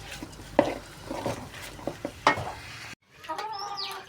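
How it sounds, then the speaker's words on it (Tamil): Onion, tomato, garlic and cinnamon sauté in a pan for a chicken-feet fry, with a soft sizzle and irregular stirring scrapes and taps up close. After a short break, faint clucking from a chicken follows. "வெங்காயம் தக்காளி பூண்டு பட்டை போட்டு வணக்கிட்டு இருக்கேன்"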